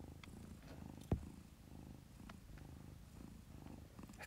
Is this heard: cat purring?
yes